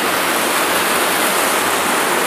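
Fast-flowing stream water rushes below a hillside Shiva temple at Gumargunda on the Dantewada–Bijapur road, a loud, steady, unbroken roar with no voices.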